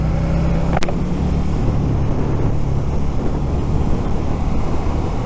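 A Suzuki SV650 motorcycle being ridden with a steady, loud engine drone mixed with heavy wind rush, continuous and close throughout, with no talking.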